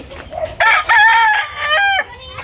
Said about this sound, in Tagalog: Magaganda manok nila rito,